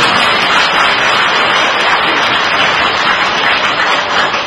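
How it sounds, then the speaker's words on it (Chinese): An audience applauds a teacher named Chen at a Buddhist temple gathering, with steady, dense clapping from many hands that fills the space evenly and loudly, with no voices on top. "让我们用掌声感谢我们陈老师"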